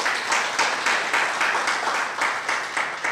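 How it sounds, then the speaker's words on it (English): An audience at an investment forum applauds in a steady, fairly close round of clapping that keeps a loose rhythmic pulse for a few seconds, with no talking over it. "Let's clap for Tracy."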